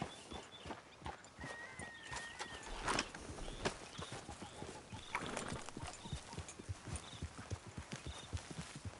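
Hooves clip-clop in a steady rhythm on hard ground in the video game Red Dead Redemption 2, fairly close, with a horse's brief whinny and faint background sounds, no talking.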